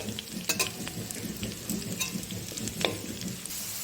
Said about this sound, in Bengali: এবার একটু নাড়াচাড়া করে নেব, ভেজে নেব এগুলোকে।